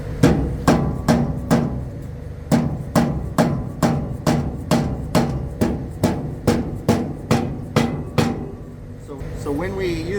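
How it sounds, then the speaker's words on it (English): A dead blow hammer strikes a shaft to drive a bearing, about twenty sharp, evenly spaced close blows in a steady rhythm, then a short pause and a faint voice at the end. "we use a dead blow hammer because it doesn't scar the shaft"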